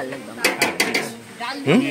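Food such as dal, fried potatoes and jhuri being ladled into small camping bowls at an outdoor car-camping meet, with several close, sharp clinks of utensils against dishes and a voice talking in the background.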